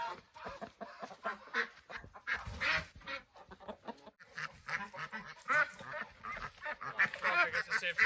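Ducks on a summer homestead quack and honk in a busy, overlapping chorus, many close calls in quick succession at fairly low volume.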